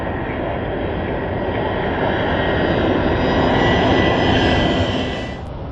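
An aircraft engine roars during takeoff on runway 27, a loud, steady broadband rumble that builds slightly and then fades near the end, heard alone without voices.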